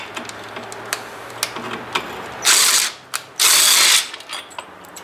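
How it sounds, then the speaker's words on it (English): A rattle gun zapping bolts on a wind turbine kit, two loud sustained buzzing bursts amid scattered clicks and ratcheting ticks, close by with no talk. "I'll probably just zap them up with the rattle gun"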